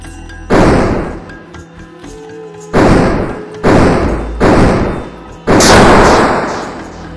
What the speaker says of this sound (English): Train duels should end in big explosions, so he added a new sound and particle effect for dying trains.